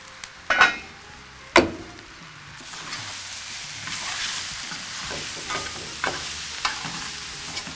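Spinach frying and wilting in a pan gives a steady close sizzle, with two sharp clatters near the start and light stirring scrapes and taps throughout.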